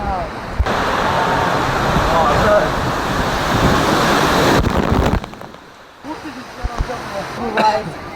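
A ride down the world's longest family water slide at Atlantis Dubai: rushing, splashing water roars loudly for several seconds, then drops to quieter sloshing and drips, with voices talking over it.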